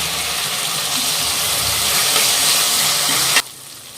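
Onions frying in oil in a pan give a loud, close, continuous sizzle that holds steady for over three seconds and then cuts off abruptly.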